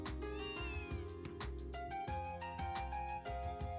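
A frail kitten meows in the video game Trails from Zero, its cries rising over a steady bed of game music.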